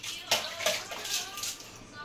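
Cold water splashes and sloshes in repeated bursts as a baby is bathed outdoors, close and bright, with soft voices in the background.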